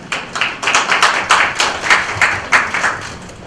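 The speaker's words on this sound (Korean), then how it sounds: "박수로 부탁드립니다." Rhythmic clapping from a group at a political party meeting, steady and fairly close, with sharp claps repeating at a regular pace and no voices over it.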